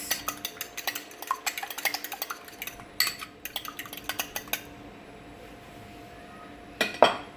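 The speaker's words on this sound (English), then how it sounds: "I'm gonna beat my eggs just like this." Eggs beaten in a bowl with a utensil, a quick run of rhythmic clinking taps against the bowl, pausing briefly, then a few more strokes and a final louder clatter.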